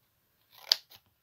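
Card paper is sliced with a paper-cutting tool: one short, crisp crunching cut followed by a softer second snip, close and otherwise quiet.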